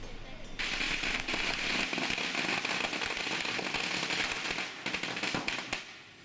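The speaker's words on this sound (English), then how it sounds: "Many locals burn firecrackers as part of their temple offerings when a prayer has been fulfilled." A dense, continuous barrage of firecrackers burned as temple offerings crackles and pops loudly for several seconds, with rapid overlapping bursts before it tapers off.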